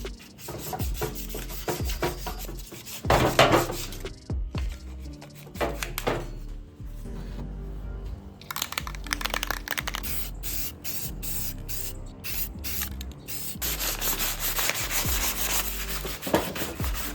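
Sanding the body of a mini drift cart down after stripping stickers, with repeated rough scraping strokes in uneven bursts, close and fairly loud, broken by short pauses.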